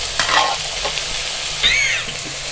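Chopped bell pepper, onion and green chilli sizzle steadily in hot oil for macaroni, close and loud, with a few scraping stirs across the pan.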